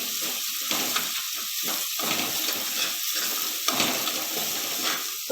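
Curry leaves sizzle in a hot pan of oil while Jain poha is being made, a steady close crackling hiss with brief louder spits, no voices.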